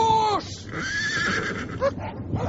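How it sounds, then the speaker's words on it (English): A horse whinnies in a dramatised Hound of the Baskervilles scene, a loud shrill neigh with descending warble, then a shorter second call, over a rumbling background, with a voice shouting briefly. "My horse!"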